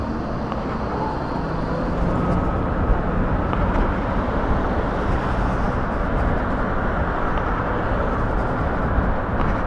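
An electric Vmoto TC Max motorcycle rides along steadily with no throttle applied, giving a continuous broadband road and wind rush at a constant level with a faint motor whine, with no voices.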